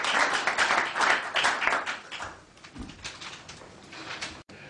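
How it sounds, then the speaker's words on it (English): Audience applause during a hypnosis therapy session, dense clapping at moderate loudness that swells early and thins out toward the end, with no talk over it. "Give him a round of applause"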